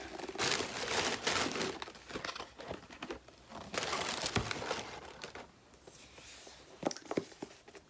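A large, heavy Shane x Jeffree Conspiracy eyeshadow palette with two metal side clasps is pulled from snug cardboard packaging, producing loud, continuous crinkling, scraping and rustling close by, with a few sharp crunches.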